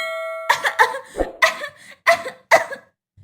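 A cartoon woman doused with sacred ash coughs in a quick series of about six harsh, close bursts with short gaps between them, after a brief bell-like chime at the start.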